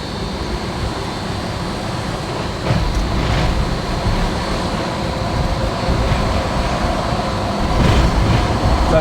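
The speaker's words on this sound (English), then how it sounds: "Turn the fan up now to a decent level" Cooling fan blowing at half power in a dyno cell testing a Land Rover Defender 2.2, a steady loud broadband rushing roar with a low rumble, swelling slightly partway through and near the end, no talking.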